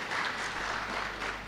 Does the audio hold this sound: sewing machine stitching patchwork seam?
no